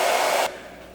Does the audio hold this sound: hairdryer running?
yes